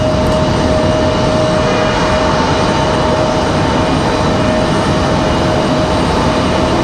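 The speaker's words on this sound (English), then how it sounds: "There's our ATR from New Bern" An ATR turboprop airliner arriving from New Bern at Raleigh-Durham airport gives a loud, continuous broadband roar with a faint steady tone, unbroken for the whole stretch and with no voices.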